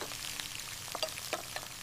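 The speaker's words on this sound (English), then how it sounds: "I grill chicken." Chicken sizzles on a grill, a quiet, continuous frying crackle with small irregular pops and spits scattered through a short stretch.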